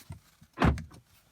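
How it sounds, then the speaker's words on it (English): Door locks on a Chrysler 300 actuating once, a single solid clunk with a brief mechanical whir, close and alone in an otherwise quiet car interior. "Door locks sound very solid."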